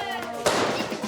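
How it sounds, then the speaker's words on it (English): Fireworks set off by kids in the old Medina streets: one sharp, loud bang with a broad burst of noise that lingers and rattles on for a moment after, heard fairly close against a steady background hum. "Kids are setting off fireworks in the Medina."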